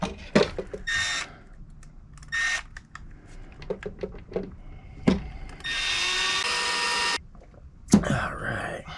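Bursts of a power drill whir in short runs, then one longer sustained spin, driving screws to mount roof skids on a Kraton RC car, separated by clicks and handling noises at close range.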